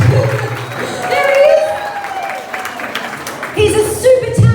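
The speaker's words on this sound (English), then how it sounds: "Everyone give her a big round of applause." Audience at a studio grand opening in Melbourne breaking into applause with some cheering, a steady wash of clapping that swells and fades while a voice talks over it, fairly loud and close.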